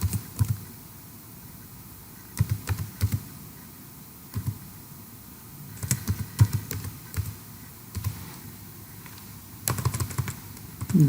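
Typing on a computer keyboard while entering text into a Chrome browser search, with bursts of keystroke clicks separated by short pauses, close and fairly soft, with no talking.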